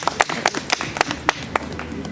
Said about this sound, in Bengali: আপনি একটি হাততালি দিন